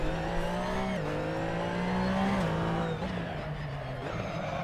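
A race car in a racing simulator game slides through a corner, its engine holding a steady droning pitch that dips and wavers as the car loses grip, loud and continuous with no talk.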